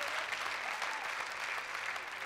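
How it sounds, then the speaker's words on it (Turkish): Brief, continuous applause from a studio audience after a clarinet performance, many hands clapping together in an even, hissing wash at a steady level. "Bir büyük alkış daha."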